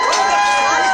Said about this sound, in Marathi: तर या ठिकाणी चाहते एकच एक जल्लोष करताना दिसत आहेत.